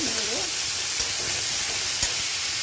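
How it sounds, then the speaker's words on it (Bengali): Beans, carrots, a few potato pieces and half a tomato fry in oil in a pan, giving a loud, steady sizzle with a faint stirring knock or two. "হাফ টমেটো দিলাম, বিনস, গাজর আর 2-4 টুকরো আলু দিয়েছি, ভেজে নেব"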